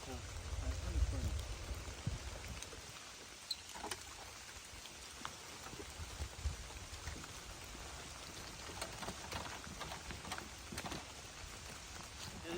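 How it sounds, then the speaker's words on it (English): Steady rain patters down through tree cover along a forest trail, a soft continuous hiss with scattered drips, while a person talks nearby. "It's raining, but we have the trees that are kind of absorbing some of the rain"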